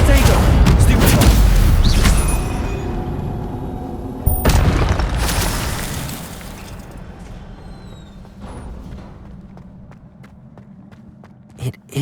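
A Stupefy spell cast in Hogwarts Legacy hits with loud booming bursts and rushing impact noise, a sharp second strike midway, then fades into quieter rumbling and a brief final thump.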